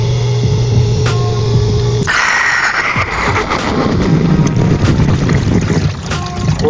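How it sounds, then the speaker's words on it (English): A crawlspace sump pump runs right after a heavy clog was cleared, giving a loud, steady close-up whir and rushing water that shifts into a rougher, more turbulent wash after a couple of seconds. "Sump pump works."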